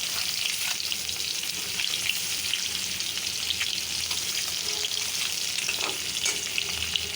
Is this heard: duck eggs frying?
yes